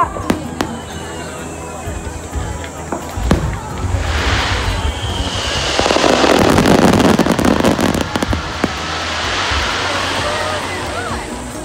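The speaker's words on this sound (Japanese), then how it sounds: "花火師さんからスマイルの花火のお返しが届きました" Fireworks burst overhead with sharp cracks and booming explosions, followed by a long crackling shimmer over the noise of a crowd outdoors at the 2019 Katsushika fireworks festival in Tokyo.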